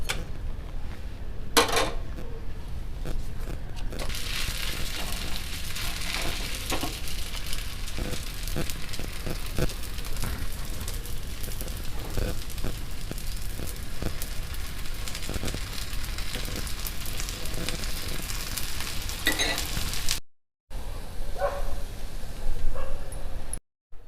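Bottle gourd rice roti (sorakai akki roti) cooking on a pan gives a steady crackling hiss with scattered soft clicks and clatter, fairly close, ending in a short break and a few clinks.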